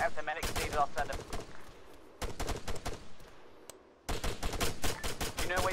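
Rapid bursts of machine-gun fire in a firefight game, loud and close, coming in three dense volleys separated by short lulls, with voices faintly underneath.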